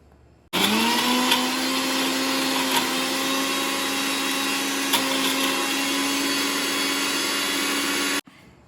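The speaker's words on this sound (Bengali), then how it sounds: "আমি এবার এই জিনিসটাকে মিক্সিতে দিয়ে আমি এই গ্রিনটা করে নিব" An electric mixer grinder running steadily for about eight seconds as it grinds chicken mince into a smooth paste, starting abruptly with a rising whine, holding a loud even motor drone, then cutting off sharply.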